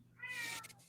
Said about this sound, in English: I think your cat is trying to tell you that